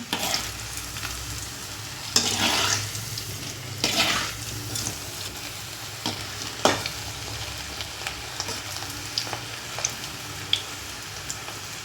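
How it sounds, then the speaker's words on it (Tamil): Cauliflower chilli frying in hot oil with ginger and garlic gives a steady soft sizzle. Occasional stirring scrapes and clinks of a utensil on the pan break through, and there is no talk. "பாருங்கள் சில்லி பொறிஞ்சிட்ருக்கு"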